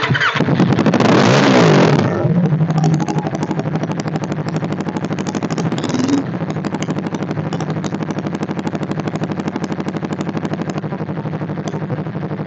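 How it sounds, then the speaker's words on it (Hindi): A 2024 Yamaha MT-03 motorcycle starts with a loud crank and a burst of revs, then settles into a steady, rapid idle exhaust burble that runs close and unbroken to the end, with no talking. "हम इसका जो एग्जॉस्ट नोट आपको सुनाते हैं"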